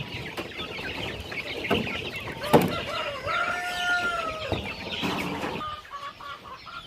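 Rooster crowing at a gamecock fighting spot, with clucking fowl around, a couple of drawn-out crows standing out over steady farmyard noise and scattered knocks.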